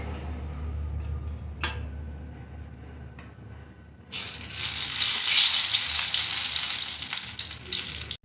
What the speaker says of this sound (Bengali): তেল গরম হয়ে গেছে এবার আমি এতে দিয়ে দিচ্ছি একটি বড় এলাচ